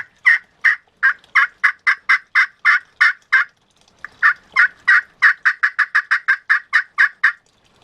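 A wet custom Silver Thunder friction turkey call producing two runs of rapid, evenly spaced purring yelps, loud and close, with a brief pause between the series.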